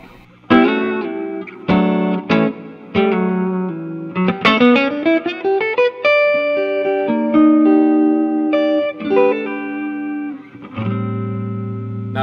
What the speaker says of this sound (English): You hear the pitch of the reverb going up and down.